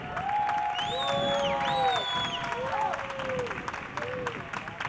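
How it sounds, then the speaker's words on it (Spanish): Concert audience applauding and cheering for the sound engineer at a tribute concert, dense clapping with whistles and whoops rising above, fairly distant, and voices in the mix. "fuerte aplauso para él"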